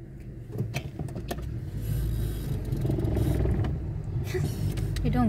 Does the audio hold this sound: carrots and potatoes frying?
no